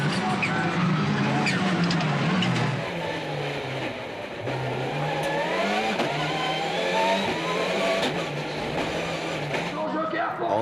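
Peugeot 207 rallycross cars duel wheel to wheel at Dreux, their engines revving loud and continuous with rising and falling pitch as they accelerate, with commentary talk over the roar.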